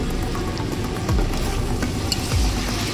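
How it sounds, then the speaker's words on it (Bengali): Fish curry masala with kohlrabi sautéing over a high flame, a steady close sizzle with occasional scrapes and stirring clatters of a utensil in the pan, with no talking. "এটাকে হাই ফ্লেমে আরও একটু কষিয়ে নেব"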